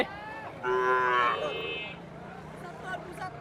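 At a busy outdoor cattle market, a calf lets out one loud, close moo after a short lower call, with faint crowd noise behind.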